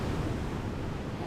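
Ocean waves on a Costa Rica beach, a steady broadband wash of surf mixed with wind rumble, continuous and fairly loud, with no voices.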